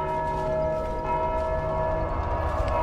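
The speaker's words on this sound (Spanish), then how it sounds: "le pegué a la campana" A bell struck in the video game Dark Souls 2 rings out as one sustained, resonant metallic tone with layered overtones, holding steady at moderate loudness for about three seconds.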